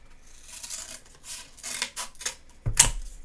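Scissors or a blade snipping through a strip of cardboard in several short rasping cuts, close and dry, ending with a sharper louder snap.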